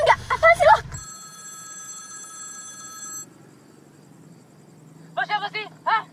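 A mobile phone rings with a steady electronic tone for about two seconds, clear and close, with people talking before and after it.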